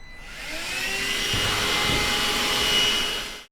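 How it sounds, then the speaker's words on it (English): A Dyson vacuum cleaner sucks up metal shards inside a Sprinter van during a window install, a steady close-up whine that rises at the start, holds with some clattering pickup, then cuts off abruptly. "Jazzy's got the trusty Dyson and is giving it a bit of a clean"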